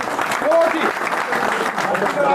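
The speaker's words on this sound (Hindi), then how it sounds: "पटका पहनाकर जोरदार तालियों के साथ" Applause and cheering at a political rally, a continuous crowd wash with shouting voices mixed in, loud and close throughout the short stretch.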